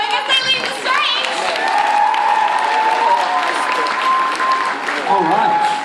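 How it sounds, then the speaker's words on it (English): Audience applause and cheering at a cosplay competition, continuous and fairly loud as contestants leave the stage, with some shouts and voices over the clapping. "Keep that applause going as they leave the stage."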